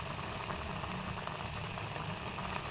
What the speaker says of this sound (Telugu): సాల్ట్, పసుపు, పచ్చిమిర్చి, ఆనియన్స్ కట్ చేసుకొని ఇలా ఉడకబెట్టుకోవాలన్నమాట